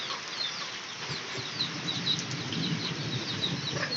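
A hen clucks in a rural yard in rainy weather, short soft calls repeating over a steady background hiss of rain.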